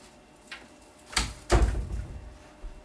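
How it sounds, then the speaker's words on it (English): An interior door in a home is pushed shut, producing two close, fairly loud thuds about a third of a second apart, with a soft knock just before and a faint click after, in a quiet room. "Now I'm shutting my door."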